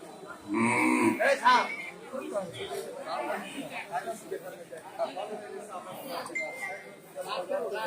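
A native cow lets out a loud moo nearby, followed by a busy murmur of voices and chatter from a crowded outdoor cattle market at Kalma Bazar.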